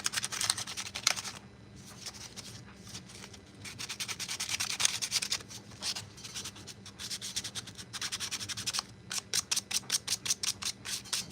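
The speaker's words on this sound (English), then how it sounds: "Sand it off, and then we're gonna get some Bondo glazing spot putty on these." A lightsaber stand being sanded by hand, close rhythmic scratchy strokes that grow faster and more regular toward the end, with no talking.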